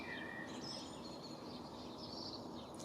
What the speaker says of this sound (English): Can you hear that? It's the sound of the birds.